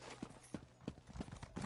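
Horse hooves clip-clop at a steady trot in Elder Scrolls Online, five or six soft, evenly spaced thuds, quiet and close.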